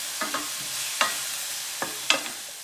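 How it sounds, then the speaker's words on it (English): Vegetables sauté in a hot pan over medium heat for Mexican rice, with a steady close sizzle and a few sharp scrapes and clacks from stirring. No voices are heard. "we're gonna add the vegetables and saute over medium heat for approximately 5 minutes"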